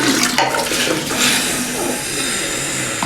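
Cold water is poured over a person in one broad splashing rush, loud and close, with water spattering and draining for a few seconds and no talk.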